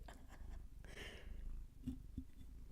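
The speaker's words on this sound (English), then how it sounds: "Purr for me." A cat purrs softly up close, a quiet, low rumbling hum broken by a brief rustle and a couple of small clicks.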